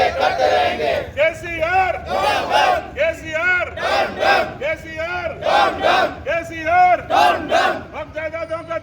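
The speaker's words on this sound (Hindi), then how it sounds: "उन्होंने हुकूमत के खिलाफ नारे भी लगाए" A crowd protesting outside the Waqf Board chants slogans against the government, loud rhythmic call-and-response shouts repeating in regular bursts, close and forceful.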